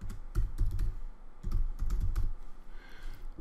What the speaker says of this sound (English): So I'll just start to type that in